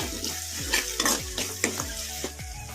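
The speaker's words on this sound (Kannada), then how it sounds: "ಈಗ ಮೀಡಿಯಮ್ ಫ್ಲೇಮಲ್ಲಿ ಇಟ್ಕೊಂಡು ಟೊಮೊಟೊ ಮೆತ್ತಗಾಗೋವರೆಗೂ ಫ್ರೈ ಮಾಡ್ಕೊಂಬಿಡೋಣ" Tomatoes fry in a pan over a medium flame for a restaurant-style handi chicken masala gravy, a steady close sizzle broken by repeated scraping stirs of the spoon, with no talking.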